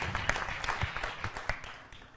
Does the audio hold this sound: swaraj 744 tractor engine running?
no